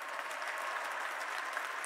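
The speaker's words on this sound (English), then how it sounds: "Can we just give a round of applause for them?" An audience at a youth of the year celebration applauds, a steady, even roar of many hands clapping, moderately distant and uninterrupted.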